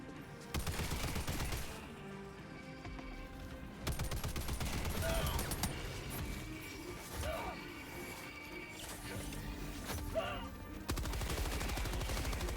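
Sustained automatic gunfire empties a full magazine in Helldivers 2, dense rapid bursts that stop and restart several times, loud and close, mixed with clanks and impacts and with voices talking during the shooting.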